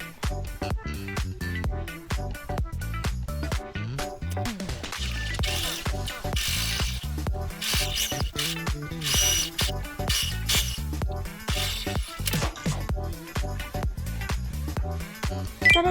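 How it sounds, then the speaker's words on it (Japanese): A sewing machine stitches pinned fabric along a 1 cm seam allowance while bias tape is being made, giving a steady, rapid mechanical clatter of needle strokes that runs close up and loud for the whole stretch, with no voices. "このように待ち針を留めましたら、縫い代1センチで縫います。"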